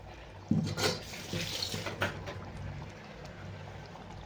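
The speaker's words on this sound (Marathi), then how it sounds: "आपण थोडं पाणी टाकणार आहे अजून" Water is poured into a pot of traditional khengat vegetable curry, starting with a sudden splash and settling into a short, close gurgle that fades over a few seconds.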